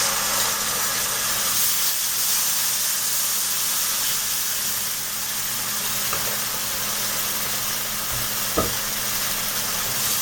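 Onion, ginger and garlic paste sizzles in a pot, a steady broad frying hiss with occasional faint clicks and a low hum beneath, no voices present.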